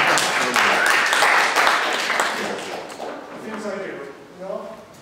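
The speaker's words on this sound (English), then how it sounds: "Go ahead, you can clap with that." An audience at a car dealership presentation claps for several seconds, loud at the start and then fading as a presenter's voice comes back in.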